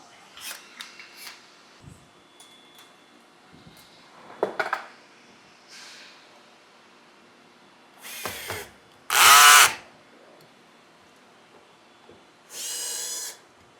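A power drill drives a screw with a washer into the motor pulley of a Praxis 22 kg washing machine, several short whirring bursts separated by quiet gaps, with small handling clicks and knocks between them.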